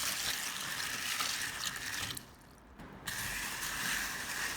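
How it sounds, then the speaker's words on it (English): Mung beans rinsed in a bowl of water, a steady splashing and trickling wash close by that drops out briefly midway before resuming. "Add water and rinse them well."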